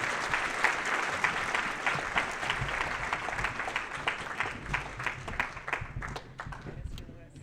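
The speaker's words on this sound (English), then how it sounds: "Could we get a round of applause for these outstanding freshman science students?" A high school awards-night audience applauds outstanding freshman science students: steady, dense clapping from a sizable crowd that holds for several seconds and thins slightly toward the end.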